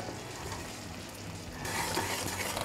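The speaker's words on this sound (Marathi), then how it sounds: "आता या पद्धतीने आपण अजून सुद्धा या पाकाला शिजवून घेऊया" Sugar syrup bubbling and being stirred in a pan while cooking down for sesame barfi, a soft steady simmering hiss that swells slightly near the end, with no talk.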